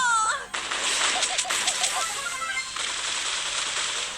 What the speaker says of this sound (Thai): มันจะยิงแล้ว